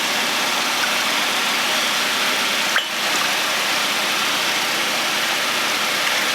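A car engine idles steadily after an oil flush with thin cleaner in the oil, a constant close mechanical hum broken only by one brief click partway through.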